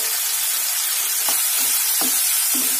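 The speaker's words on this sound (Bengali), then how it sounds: "এর মধ্যে এবার দিয়ে দিচ্ছি আমি কুচিয়ে রাখা টমেটো।" Chopped tomato sizzles loudly in oil with cabbage and prawn masala, a close, unbroken hissing fry marked by three soft stirring thuds; no talk.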